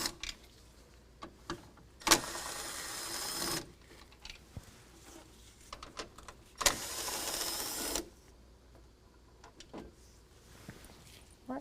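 Bolts being backed out of a 2019 Ram 1500 fog light housing with a 7mm socket, heard as two sustained rasping ratchet runs of about a second and a half each, with small clicks and taps between them, close and fairly quiet.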